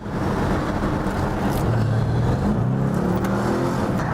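An Audi RS7's engine roars steadily while driving, a deep bass-heavy rumble with road noise, close and loud throughout.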